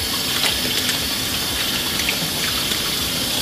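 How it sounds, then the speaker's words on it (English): Tap water runs steadily in a kitchen while hands are rinsed after handling a spatchcocked turkey, a continuous close hiss and splash at an even level with no talking. "Rinse off my hands."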